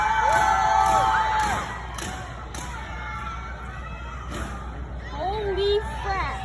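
Audience at a Blue Angels air show drill meet cheering, whooping and clapping throughout, loud and crowd-wide, with shouts and voices rising over the noise near the end.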